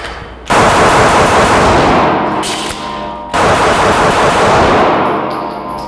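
Rapid strings of loud handgun shots during a shooting drill, two dense bursts split by a brief pause for a reload, each burst ringing out close and sharp with no talking.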